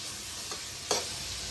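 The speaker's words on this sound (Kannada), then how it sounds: "ಹಸಿಮೆಣಸಿನ್ಕಾಯಿ ಹಾಕ್ತೀನಿ. ಅದು ಅಷ್ಟೇ ಎಣ್ಣೆಗೆ ಒಂದು 2 ಸೆಕೆಂಡ್ ಅಷ್ಟು ಫ್ರೈ ಆಗಲಿ." Green chillies fry in hot oil for a hesaru bele kichadi, giving a steady soft sizzle broken by two quick stirring scrapes, close up and with no talking.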